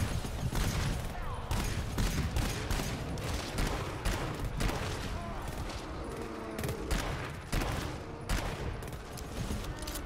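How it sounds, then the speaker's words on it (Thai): Sustained machine gun fire in the co-op shooter game GTFO, rapid dense bursts running continuously and loud, with game action layered underneath. "ไอ้ปืนกลอันนี้ดีมากเลยอันเนี้ย"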